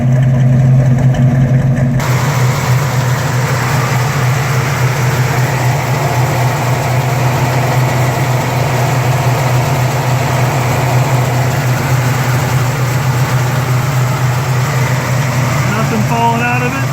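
A 1970 Chevrolet El Camino SS sits idling, warmed up and running at a fast idle of about 1400 rpm, giving a steady, close, continuous low engine drone that holds evenly throughout with faint background noise.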